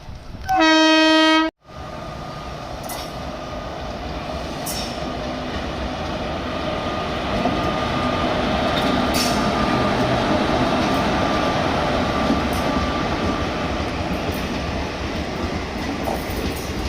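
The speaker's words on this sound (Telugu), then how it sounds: "ఒక ట్రైన్ వచ్చింది ఈ ట్రైన్ వచ్చి నర్సా నర్సాపూర్కి వెళ్తుంది" A train horn blares loudly at the start, then a long steady rumble of a Narsapur-bound passenger train's railcars rolling past nearby at Piler railway station, with faint squeals and clanks over it.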